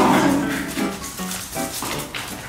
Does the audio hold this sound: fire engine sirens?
no